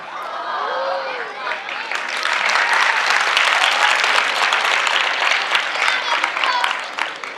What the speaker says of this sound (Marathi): मुलीच टाळ्या वाजायला लागल्या का मुलं काही टाळ्या वाजत नाही आत्ता वाजला